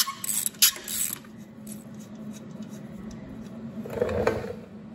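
A socket ratchet loosens bolts on a Honda ATC200E Big Red engine during teardown, giving close mechanical clicking with a few sharp knocks early on and a louder ratcheting burst near the end.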